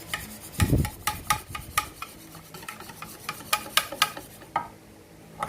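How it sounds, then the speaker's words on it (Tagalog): A utensil beats eggs with flour in a bowl for okoy, Filipino fritters, giving quick rhythmic clinks and scraping taps against the bowl, close and fairly loud with no talking. "We're going to beat the eggs with the flour."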